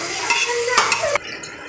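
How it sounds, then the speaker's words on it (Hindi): Ginger and garlic frying in a pan for a mixed dal tadka, with a steady close sizzle and stirring scrapes that cut off abruptly after about a second. "अदरक और लहसुन को यहाँ पे हल्का सा मैंने भून लिया है।"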